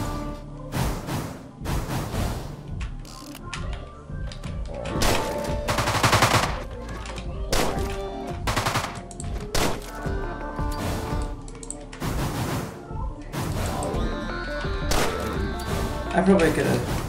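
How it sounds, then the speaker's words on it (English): Dual revolvers firing in the Deadbolt video game, sharp loud shots in irregular bursts with crashes between them, mixed with game music and a player talking. "That's my favorite gun. Guns, the dual revolvers."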